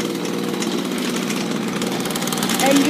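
Two-stroke go-kart engine runs just after starting, a loud, close, raspy buzzing with a fast, steady rhythm, and a voice briefly heard near the end.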